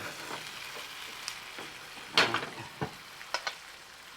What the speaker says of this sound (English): So shake those pans.